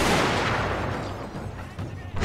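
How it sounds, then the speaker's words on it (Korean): A rank of Joseon matchlock gunners fires a volley in Total War: Shogun 2, a loud, dense crackle of many shots at once that swells at the start and then trails off into a rumbling decay. "2열 발사!"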